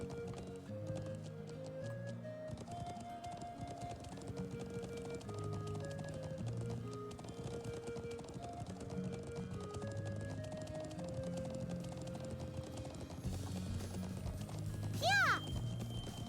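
Horse hooves clip-clop in a steady, moderately loud rhythm throughout, over sustained melodic tones, with a brief higher whinny-like sweep near the end.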